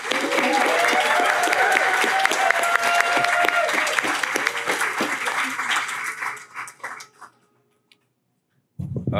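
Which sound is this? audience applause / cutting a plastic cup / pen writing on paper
audience applause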